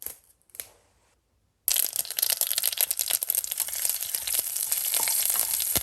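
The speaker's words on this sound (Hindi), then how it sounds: "गरम गरम तेल में डालना होता है राई। जैसे ही राई डालोगे इस तरह से फटने लगेगा।" Curry leaves, mustard seeds and asafoetida sizzle loudly in hot oil for a Goan vegan dali toy with coconut, a sudden burst of dense crackling and spattering after a brief quiet start, steady and close with no talking.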